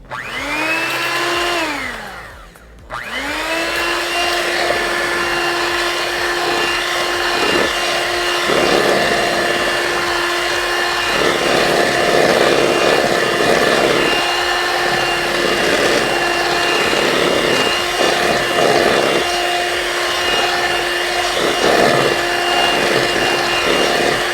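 Cake batter of sugar and flour being mixed with an electric mixer for a pound cake, a steady loud motor whir with a brief dip near the start, then a continuous drone with varying load throughout.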